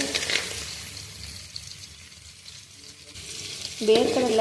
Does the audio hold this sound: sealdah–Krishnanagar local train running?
no